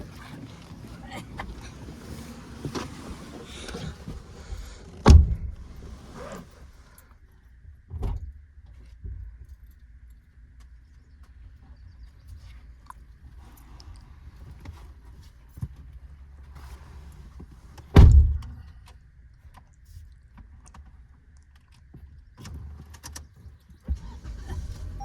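A car door on a brand-new midnight blue car thuds shut with a heavy low slam midway, then another firm slam later, against a quiet cabin hum with faint movement and rustling between.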